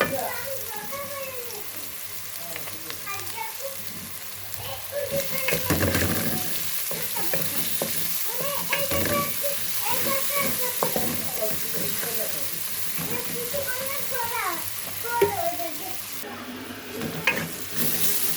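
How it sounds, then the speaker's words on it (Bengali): Onion frying in a pan while catfish curry is being cooked, giving a steady sizzle with bursts of stirring and scraping; some faint background voices and clatter. "পেঁয়াজটা ভাজা হয়ে গেছে।"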